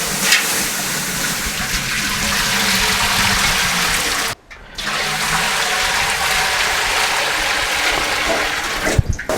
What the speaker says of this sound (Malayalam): നമ്മളിപ്പോൾ റൈസ് വയ്ക്കാൻ വേണ്ടിയിട്ട് വെള്ളം ഒഴിക്കുകയാണ്